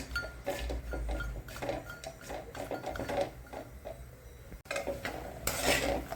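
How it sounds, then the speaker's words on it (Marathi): Grated coconut dry-roasts in a pan while a spatula scrapes and clatters against the metal in uneven, close strokes, with no one talking. "खोबरंही आता भाजून घेऊ चांगलं."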